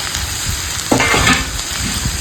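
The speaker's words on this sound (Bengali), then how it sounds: "দিয়ে মশলার সঙ্গে সব একসঙ্গে কষাবো" Prawns and young taro sizzle and are stirred with salt, chilli and turmeric powder in a pan, a steady frying hiss broken by a few scraping stirs near the middle.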